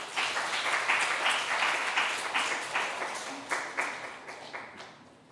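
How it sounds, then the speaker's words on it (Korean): Applause from a church young-adults worship audience, a steady wash of many hands clapping that swells and gradually thins out, with a few louder individual claps near the end. "그래서 강규영 나올 때 큰 박수 부탁드립니다"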